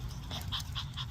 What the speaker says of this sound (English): Yeah, he's panting.